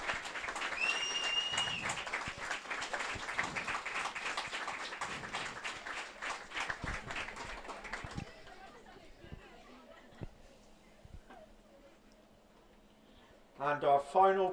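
Spectators at a girls' under-15 football cup final clap in a loud, sustained round of applause mixed with crowd chatter, which gradually thins to scattered claps and murmuring before a brief burst of sound at the end.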